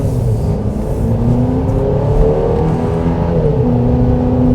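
A 2025 Chevrolet Traverse LT engine drones steadily while accelerating uphill, heard loud and continuous from inside the cabin with rising engine tones over road rumble and no talking.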